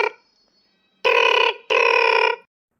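A cartoon telephone rings in two long, loud electronic bursts with a short gap between them, following a brief tonal fragment, and no one speaks.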